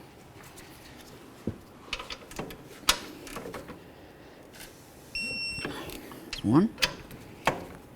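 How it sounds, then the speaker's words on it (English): A torque wrench tightens brake bracket bolts on a 2009–2016 Mercedes-Benz E350 during rear brake work, giving sharp ratcheting clicks and metallic snaps scattered between short spoken words and a brief electronic beep. "Now we're going to torque these bracket bolts to 85 foot-pounds."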